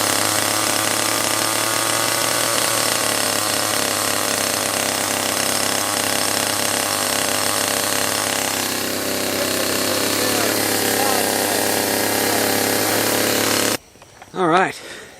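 A Husqvarna 338XPT chainsaw with a new cylinder and piston idling at half throttle, a loud steady buzzing engine drone close by that cuts off near the end, followed by a brief voice.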